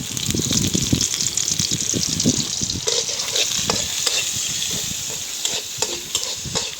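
Chopped garlic and onion frying in soybean oil with dried chilies, a loud continuous sizzle broken by frequent scraping and knocking stirs in the pan.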